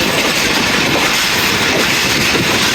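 The Rehman Baba Express passenger train runs through a station without stopping under a 50 km/h speed caution, a loud continuous rumble with wheels clattering on the rails, close by, no talk.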